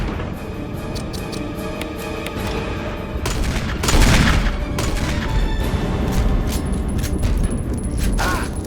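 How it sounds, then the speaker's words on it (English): Heavy magnum revolver shots ring out in the Resident Evil ('02) game, loud booming blasts with a burst of fire near the four-second mark over dense game noise. "You get Barry with his magnum just popping that thing."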